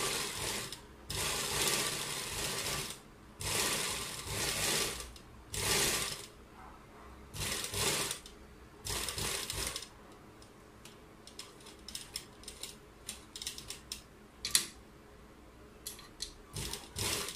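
Sewing machine stitching a curved sleeve piece, running in steady bursts of rapid ticking with short pauses between runs, then a stretch of lighter intermittent clicks and handling of fabric.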